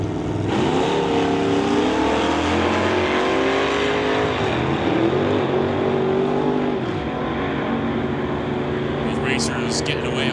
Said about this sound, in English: Racers getting away on green lights.